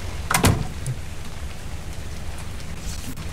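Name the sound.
rain in the video game ARK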